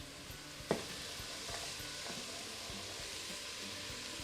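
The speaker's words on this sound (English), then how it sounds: "I'm going to let those vegetables cook over medium heat, stirring that occasionally until the onion is translucent" Chopped onion and celery sauté in a soup pot over medium heat, a faint, even sizzle with a single soft clack of stirring near the start.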